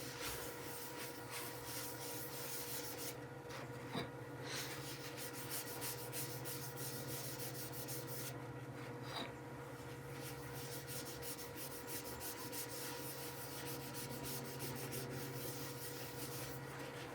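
Wax being rubbed by hand onto a freshly turned wooden bowl while the lathe sits stopped: a steady, soft, close friction texture over a constant low background hum, with a couple of brief scuffs.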